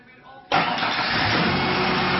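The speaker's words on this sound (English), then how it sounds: "so now he's going to start the truck and let it run for 5 seconds" A 1997 Ford Ranger pickup with the 4.0 engine cranks and catches at about half a second, then settles into a steady, loud idle that runs on alone to the end.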